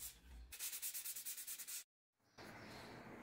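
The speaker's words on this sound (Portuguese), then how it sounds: "é só passar uma lixa bem fininha" Fine sandpaper rubs across a painted wall in quick back-and-forth strokes, a close rhythmic scratchy hiss that stops briefly, then a softer continuous rubbing resumes.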